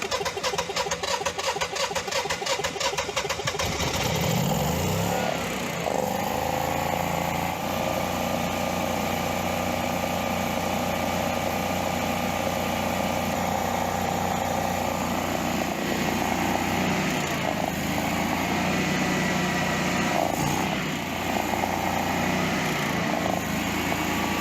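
A portable generator engine with a servo-controlled choke cranks briefly with rapid ticking, then catches and settles into a steady, loud, close running drone that holds alone for the rest of the clip.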